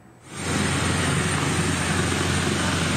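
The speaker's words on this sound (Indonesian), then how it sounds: "Terdapat 3 helikopter Puma milik TNI Angkatan Udara di lapangan Rindam." Indonesian Air Force Puma military helicopters on a regimental parade field in Ponorogo fill the scene with a loud, steady roar of rotors and engines. The sound swells up within the first half second, then holds constant and close.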